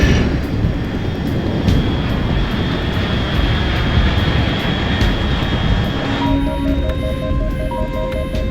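A fast unidentified aircraft in the video game Metal Gear Solid Delta roars overhead as a loud, steady jet-like drone across the whole stretch, with no talking, before game music and effects come in near the end.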